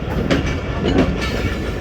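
A railcar train stands on the main line at a station, a loud, steady rumble of engine and rail noise with faint rhythmic clanks, close and continuous, with no talking.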